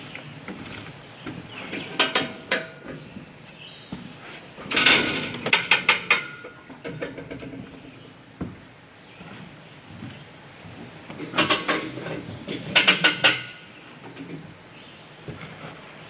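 A jack being pumped to raise a framed 2x6 cabin wall, its ratchet giving a few bright clustered clicks in separate bursts over low ambient noise, with faint sounds in between.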